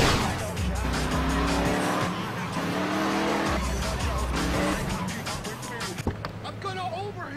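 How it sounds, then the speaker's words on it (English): A car in Liberty City Stories revs hard with tires squealing and skidding, a loud continuous engine roar with screeching turns and a thud near the end. "I'm gonna overheat my engine!"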